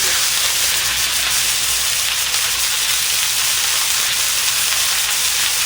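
Ground beef, 85% lean, frying for chili: a loud, continuous close-up sizzle and hiss that holds steady throughout with no voices.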